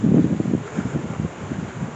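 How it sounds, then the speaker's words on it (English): Gusty wind buffets the microphone on an open hillside walk in Wasdale valley in the Lake District, Cumbria, with strong low rumbling bursts that swell and fade throughout, loudest at the start. "Quite windy here, so I apologise"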